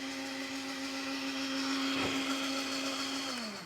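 A blender whizzes a deep-green sauce in one continuous, steady drone that rises slightly in pitch, then begins to wind down at the end.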